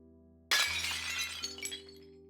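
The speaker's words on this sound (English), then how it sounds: "Granny slammed her hand down on the table so hard that she shattered a ceramic plate" A ceramic plate shatters with a sudden loud crash, followed by a spray of breaking and tinkling fragments that trail off over about a second and a half.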